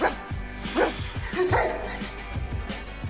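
A young woman imitates a dog with her voice, giving a run of close, loud yips, barks and whimpers in a steady stream without pause.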